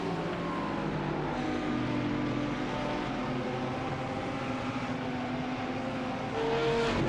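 GT race cars in a sim racing game at Laguna Seca, a Lamborghini and a BMW among them, keep up a steady engine drone at racing speed. Several cars are close together and the pitch shifts slightly as they run side by side.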